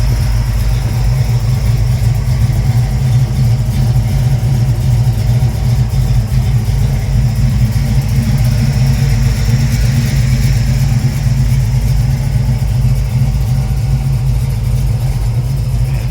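A 1951 GMC five-window pickup with a 350 crate motor, roller cam and lumpy cam idles steadily and loud at close range, a deep continuous rumble with a slight loping pulse and no talk.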